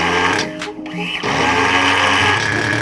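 An OS 15CVR nitro engine in an HPI Nitro RS4 RC car with a broken, too-open idle screw, buzzing at a high, steady drone close by, briefly dipping and sputtering before settling back into a constant loud whine.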